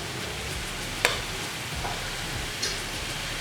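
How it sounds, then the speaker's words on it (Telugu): Wheat flour namak pare snacks frying in hot oil over a medium flame, giving a steady soft sizzle with two brief light clinks, heard alone. "చూసారా, మనం ఆయిల్లో వేసేసరికి అన్నీ చక్కగా విడుతున్నాయి"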